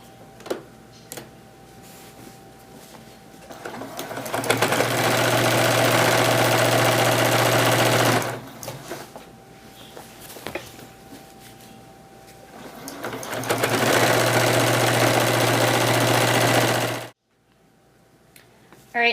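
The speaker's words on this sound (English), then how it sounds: "we're going to bring that back over to our machine and sew 1/4 of an inch" A sewing machine stitches quilt binding in two long, loud whirring runs separated by short pauses and handling clicks, then stops abruptly.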